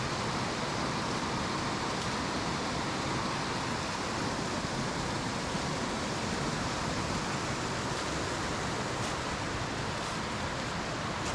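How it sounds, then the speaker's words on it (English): A small Southern Appalachian mountain creek tumbling down a steep mountainside, a steady, loud, broadband rush of falling water that stays even and unbroken throughout, with no voices. "this little creek falling off the side of the mountain has pretty much always been just like it is now"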